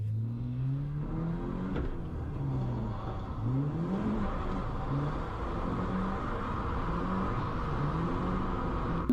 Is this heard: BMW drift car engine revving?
yes